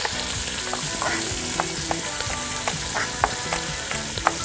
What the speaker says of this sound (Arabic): وكفي طبخهم بقلبها بزيت